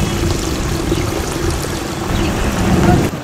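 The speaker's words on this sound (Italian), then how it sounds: "E qua un'altra sorgente solfurea." Water from a sulfur hot spring in Rotorua flows steadily, a close, continuous rushing and gurgling wash with no pauses, heard alone for a few seconds.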